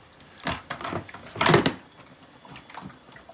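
Water gurgles and bubbles in bursts as the tank of a Honeywell HUL535B cool mist humidifier is set onto its base, with several soft glugs and one louder surge in a quiet room.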